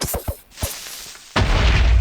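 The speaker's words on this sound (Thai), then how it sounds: "ระเบิดเลยใช่" An explosion goes off in the video game Minecraft: a few short pops and clicks give way to a sudden deep, loud boom that rumbles on to the end of the clip.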